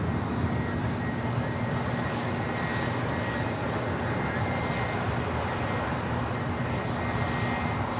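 A FlexJet Challenger 350 business jet arriving at LAX: a steady, broad engine roar holds throughout at moderate distance with no clear rise or fade.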